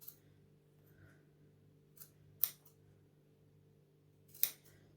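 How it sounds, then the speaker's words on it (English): Class A knife-edge dressmaking scissors cutting through fabric, giving two crisp, close snips spaced about two seconds apart over a steady low electrical hum. "these are Class A dressmaking scissors in the knife edge, not the serrated edge"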